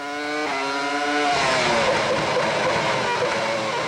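Formula 1 race cars from the 2002 season, a Ferrari passing a Williams, shriek past at high revs, with a sharp downshift and an engine note sweeping down as they roar by close and loud.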